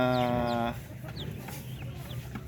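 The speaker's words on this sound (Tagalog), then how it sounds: "At meron tayo nilagay na mga sisiw dito, yung galing doon sa mayroong ilaw." Native and darag chickens in a coop with young chicks: a clear clucking call opens, followed by repeated high chick peeps and scattered softer clucks at moderate volume, with no talking.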